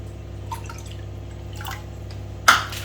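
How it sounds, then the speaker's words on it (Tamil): Water goes into a pot for Korean instant ramen: a few faint drips over a low steady hum, then a brief splashy pour near the end. "ஸோ தண்ணி ஆட் பண்ணுறேன்."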